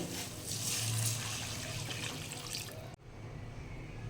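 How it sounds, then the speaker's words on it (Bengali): Hot water poured into a pan with salt while cooking a hilsa fish dish, a steady close splashing stream that runs for about three seconds and then stops abruptly, leaving only a quiet room hiss. "এবার আমি এখানে দিয়ে নিচ্ছি গরম জল।"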